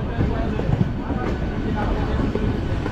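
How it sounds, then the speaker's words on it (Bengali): Inside the Steel Express running from Kolkata to Ghatsilha, a continuous low rumble of rolling wheels and carriage motion carries on steadily, with faint voices in the background. "ট্রেন ছেড়ে দিয়েছে"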